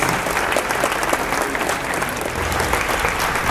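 An audience applauds at a Latin jazz concert in Acapulco, a dense, steady roar of clapping that holds level and loud throughout.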